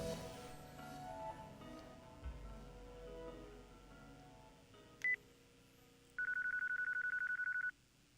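A cell phone number is dialed in the video game Yakuza 4: a single short keypad tone, then a longer run of rapid, evenly pulsing beeps, clear over a quiet background.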